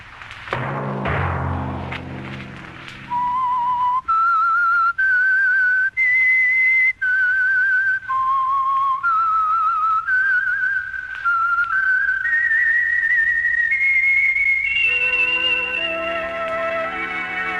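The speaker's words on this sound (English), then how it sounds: "Let that whistle be your signal" The whistled theme of the radio program The Whistler carries on steadily after a brief burst of noisy thumps, its pure tones stepping up and down in a bright tune, ending with layered harmony.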